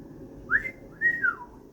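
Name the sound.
person whistling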